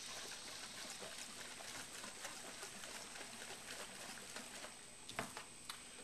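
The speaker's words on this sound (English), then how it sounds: "And then you slowly pour it in your reservoir here." Two-stroke oil and fuel mix trickles slowly into a chainsaw's fuel reservoir, a faint, steady liquid dribble with a few small patters and splashes toward the end, no talking.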